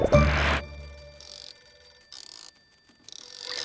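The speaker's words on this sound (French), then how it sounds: "Téléphone!" Cartoon telephone ringing in a French children's animated show: a bright bell-like trill in short bursts with gaps between rings, clear and fairly close, with no talk over it.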